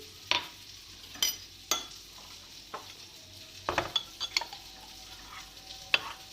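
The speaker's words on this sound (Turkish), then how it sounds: "Güzel bir şekilde sosumuzu karıştırıyoruz" A spoon stirs a thick sauce of strained yogurt, crushed garlic, apple cider vinegar and tahini, giving quiet, close, irregular scrapes and clinks against the bowl, with no talking.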